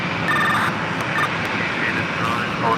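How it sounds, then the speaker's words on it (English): A Boeing 747-400 freighter heading for departure on runway 4 Left at JFK gives a steady broadband jet roar that holds throughout, with faint whining tones riding on top and a voice talking over it. "747-400 freighter heading over for a departure on 4 left."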